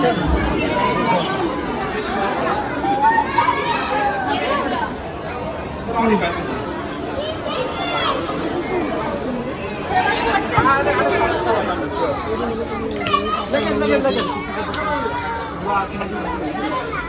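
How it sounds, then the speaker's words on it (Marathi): A large crowd at the Shani Shingnapur temple, a dense, continuous babble of many voices talking at once, close and fairly loud throughout. "खूप गर्दी आहे"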